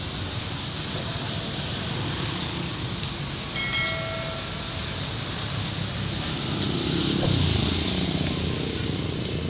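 An amusement park ride train rumbles steadily along its track at night, moderately loud, with a brief squeal and a swelling rumble toward the end; faint voices nearby.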